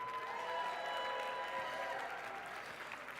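An indoor crowd at a 2019 State of the City event keeps up sustained applause with some cheering, a dense even wash of clapping heard from within the audience, with no one speaking over it.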